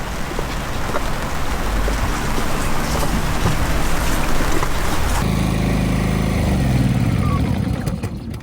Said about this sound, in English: The rain did come.